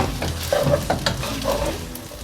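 Black pepper noodles being stirred and tossed in a pan, a steady sizzle and scraping of the mix close up, with a few louder stirring strokes and no talk.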